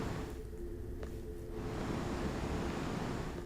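A looped waterfall sound from the video game Devil May Cry 3, a steady, unbroken rush of water noise at low level, filling the clip without talk.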